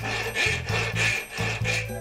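Metal engine part, such as a transmission gear or cam follower, being filed down by hand gives a close rhythmic rasp in repeated strokes, about five even passes in two seconds, with no talk.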